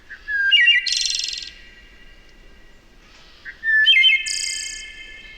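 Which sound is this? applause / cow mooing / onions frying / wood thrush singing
wood thrush singing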